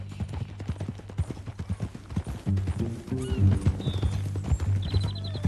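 Horse hooves clop in a steady, close rhythm in Red Dead Redemption 2, with a low snort or whinny breaking in partway through and no talk over it.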